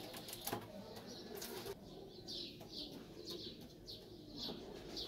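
Pigeons kept in a loft by a pigeon fancier give several soft coos, spaced across a few seconds, against steady background noise and faint bird chatter.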